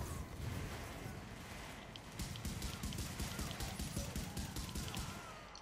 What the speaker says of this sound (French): je lance la tourelle. Elle va faire un peu le ménage